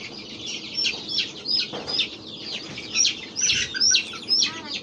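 Desi (local breed) chickens clucking and chirping in short, repeated bursts, fairly close, over a quiet background.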